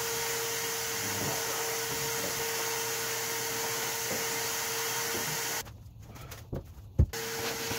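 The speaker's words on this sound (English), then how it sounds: "Pretty sure this vacuum is gonna draw a lot of power" An 800-watt vacuum cleaner used while refinishing furniture runs with a steady loud hissing drone for several seconds, then cuts off abruptly, leaving quieter room noise and a few soft knocks.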